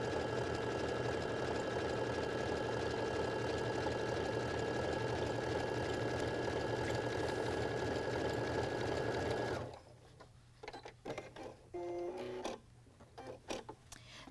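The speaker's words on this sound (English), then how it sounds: "it's a whole lot easier to turn to an overcasting stitch like this on your household sewing machine" A household sewing machine runs an overcasting stitch along the edge of denim, a steady whirring chatter that continues for about ten seconds. Then it stops, leaving short clicks and handling noises.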